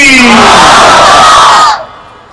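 A large crowd at an outdoor Islamic sermon gathering in Mirpur roars a unified takbir chant, loud and close, one sustained shout that swells and then cuts off abruptly into quiet.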